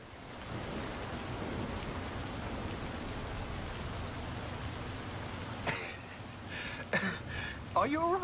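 A steady, even hiss of heavy rain fills a storm scene in the video game Forza Horizon 5. Voices and short sharp sounds break in toward the end.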